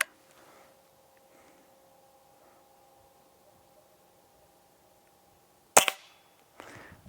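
A single sharp crack of a Hatsan Model 25 Supercharger .177 air pistol firing, brief and loud against a quiet background, followed by a softer thud shortly after.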